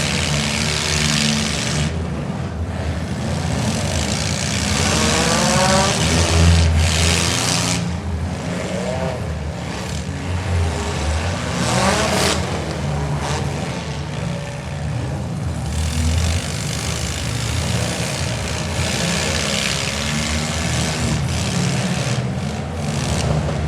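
Engines roar and rev continuously at a county fair demolition derby, with dense broadband noise, intermittent crunching impacts as cars collide, and a steady crowd-and-motor din throughout.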